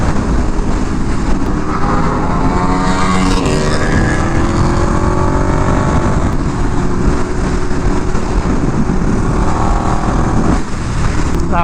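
A KTM 1290 Super Duke R motorcycle roars steadily while being ridden, its engine note holding loud and close with rising and falling harmonics, under a constant rush of wind noise throughout.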